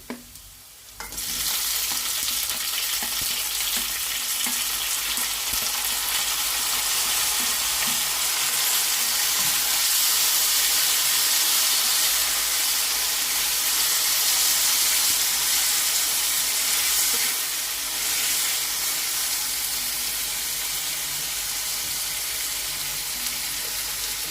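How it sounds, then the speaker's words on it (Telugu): Tomato pieces hit hot oil in a tempering for traditional tomato pappu, bursting into a loud, sustained sizzle with stirring scrapes that settles into steady frying hiss for the rest of the span, no talking. "ఇప్పుడు ఈ టమాటా ముక్కల్ని ఈ తాలింపులో వేసేస్తున్నాను."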